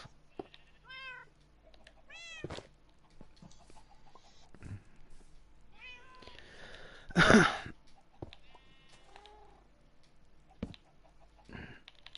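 A cat in the Minecraft video game meows several times, in short, rising calls spread across the stretch, mixed with clucking chickens and a brief louder burst of game noise, and no speech.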